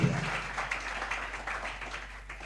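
A church congregation applauds in a soft, steady patter of many hands, heard from a distance at low volume for a couple of seconds.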